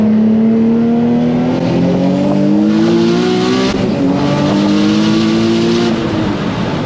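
A turbocharged Nissan 350z accelerates hard, its engine note climbing loudly through the revs in a sustained roar with a brief shift dip midway, close and dominant.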